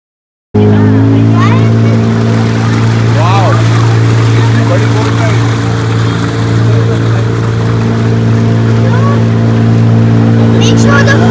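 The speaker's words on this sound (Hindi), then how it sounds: "to reach there, you need to cross the river by the boat. It's a 2-minute boat ride" A boat engine drones loud and steady with a strong low hum through the whole river crossing to Wadi Shab, Oman, with faint voices and water noise beneath.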